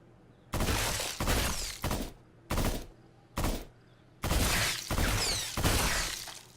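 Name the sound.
gunfire, 3-round burst in Brookhaven Experiment video game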